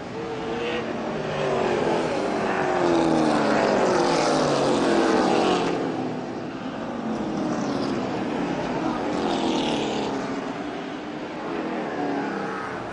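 Race cars roar through the turns of an oval track, their engine noise swelling and fading as they pass at a middle distance while a commentator talks over the action.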